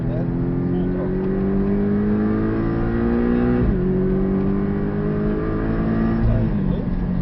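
A Porsche 718 at full throttle on the Portimão circuit sends out a steady, loud engine drone that climbs in pitch through the gears, with brief dips at the shifts.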